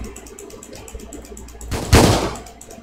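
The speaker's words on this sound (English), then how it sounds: "That gun sound, though." Roblox Stand Upright gunfire: faint ticking under background game sound, then one loud sharp close shot with a longer rumbling tail near the end.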